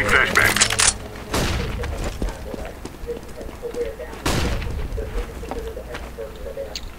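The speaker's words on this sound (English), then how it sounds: "Throwing a flashbang" Flashbang grenade blasts in CS:GO, a loud crack with a sharp ringing burst near the start, then two more heavy booms about three seconds apart over steady background game noise, with occasional voices.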